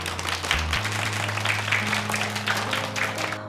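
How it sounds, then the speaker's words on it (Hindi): Applause from an audience at a school gathering, steady clapping throughout with a low tonal hum beneath it. "आप सबके लिए तो तालियां होनी चाहिए।"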